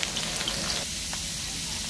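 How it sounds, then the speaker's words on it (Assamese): Onions frying in hot oil for an egg fry with dhekia fern greens, a dense, steady sizzle and crackle close up that runs the whole time. "আমাৰ তেল গৰম হ'ল। এয়া পিঁয়াজ, পিঁয়াজ দিবলৈ ল'লোঁ।"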